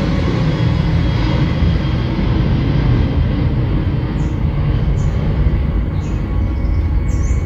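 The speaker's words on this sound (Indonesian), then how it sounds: "Maaf, ada pesawat lewat, kita berhenti beberapa detik saja ya" A loud airplane passes overhead, its broad engine roar filling the whole stretch evenly. A few faint high chirps come in near the end.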